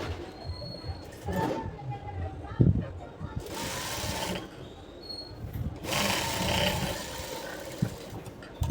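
A sewing machine stitches a puff sleeve in several bursts of rapid whirring that start and stop, with someone talking over and between the runs.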